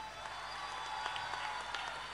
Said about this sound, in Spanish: Y nuestro director musical, Bruno Orgaz, fuerte ese aplauso.